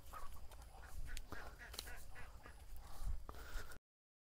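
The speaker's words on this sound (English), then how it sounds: "I do like the ducks." Ducks call outdoors in a run of faint, scattered honking quacks over a rustling, breezy background, several birds heard at a distance with no clear talk.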